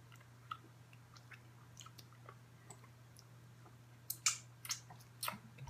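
Someone eats sour candy, with faint wet clicks and smacks scattered through a quiet background, turning into louder, sharper chewing and licking smacks near the end.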